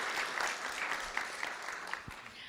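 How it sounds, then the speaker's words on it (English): Applause for middle school students at a school board meeting, a dense wash of clapping from a seated audience that holds steady and begins to fade at the end. "Let's give a round of applause to our future leaders"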